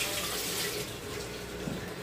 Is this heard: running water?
yes